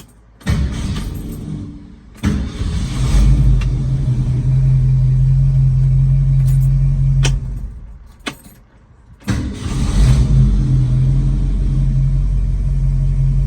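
A 1966 Ford Mustang engine starts and idles with a steady, loud low rumble for most of the stretch, dropping out briefly near the middle before firing back up; a faint jingle of keys also comes through.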